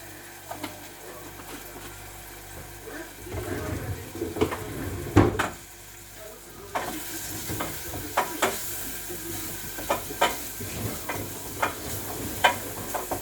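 Onions frying with curry powder in a pan for a meat pie filling give a steady close sizzle, with scattered clinks and scrapes of stirring throughout.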